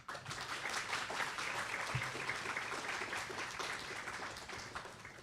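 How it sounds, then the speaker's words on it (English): Sustained applause from a sizable seminar audience, dense clapping that stays even throughout, with a brief voice near the start. "please give a hearty round of applause to Mr. John Robinson."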